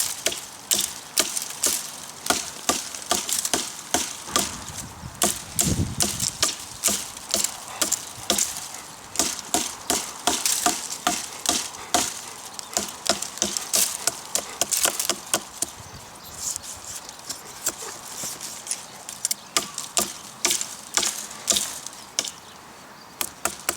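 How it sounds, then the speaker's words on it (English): A Ka-Bar knife makes light chopping strikes, sharp close knocks in a fairly quick, uneven rhythm that continues steadily with brief pauses. "A bit of light chopping with the Ka-Bar."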